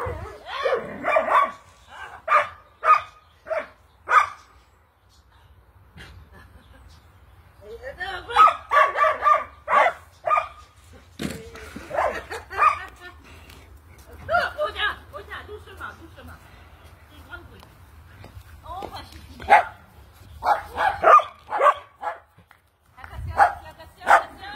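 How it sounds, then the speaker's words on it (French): Several dogs bark in repeated bursts, with yips mixed in, over roughly half a minute, close and fairly loud. Someone talks to them between the barks. "Des chiens heureux."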